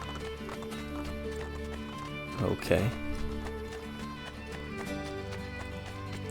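Horse hooves clip-clop in Assassin's Creed Brotherhood, a steady trotting rhythm under game music with a brief louder flurry midway, while someone speaks briefly.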